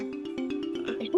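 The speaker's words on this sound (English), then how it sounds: "Robin, that's not your phone ringing again" Phone ringtone ringing: a repeating electronic tone with a steady pulsing rhythm, moderately loud and close, cut off by a brief voice at the end.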